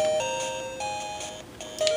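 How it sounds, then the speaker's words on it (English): Tetris music playing from a Nintendo Game Boy, a bright chiptune melody of steady stepped square-wave notes in a continuous rhythmic phrase, clear and alone without talk. "listen to good Game Boy Tetris music while I get my Game Gear working"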